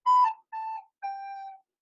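A recorder plays three short separate notes, each a little lower than the one before. The tones are clean and close, with no talk.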